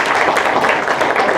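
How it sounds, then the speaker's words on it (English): A crowd at a 2016 graduation ceremony applauds the students with a loud, even wash of clapping that fills the whole brief moment, with no clear voices above it. "So we have to give our students a round of applause for that."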